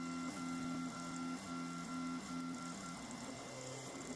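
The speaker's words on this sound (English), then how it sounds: "I'm currently 3D printing the new segments at the moment" A 3D printer prints replacement segments, its stepper motors whining in steady tonal patterns with brief pauses and pitch changes, close and moderately quiet, no voices.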